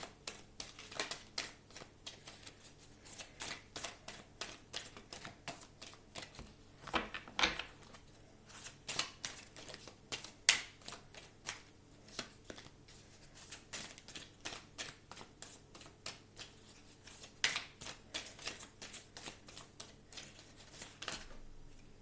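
Tarot cards are shuffled over and over in a steady, soft, close rhythm of riffling flicks, quiet and continuous with no talking.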